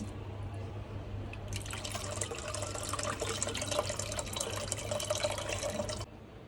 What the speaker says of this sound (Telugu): ఇప్పుడు మనం ఇందులోకి చింతపండు రసం పోసుకుందాము